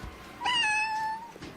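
A cat at an animal shelter lets out a single clear, drawn-out meow, close and fairly loud, with no talk.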